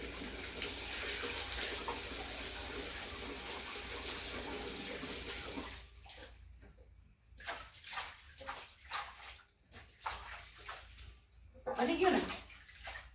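Cool water pours steadily into a can with a loud, continuous gushing rush for about six seconds, then stops, leaving quieter intermittent sounds and a person talking.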